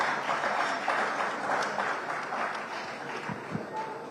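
A seated crowd at a stakeholders' gathering in Asaba applauds, steady mid-level clapping that slowly thins out, with faint voices murmuring underneath.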